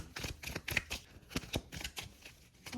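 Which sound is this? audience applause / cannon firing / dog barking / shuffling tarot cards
shuffling tarot cards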